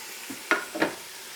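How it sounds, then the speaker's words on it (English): Stewing pork hits hot oil in a Ninja Foodi, a few soft sizzling bursts with stirring, quiet and close, with no talk. "in the other Ninja Foodi, I also have some oil heating up, and I'm using some stewing pork"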